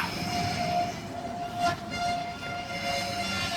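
A Sydney S set electric train idling at a station, giving a steady low rumble with a faint electrical whine and a soft passing hiss, heard from nearby without voices.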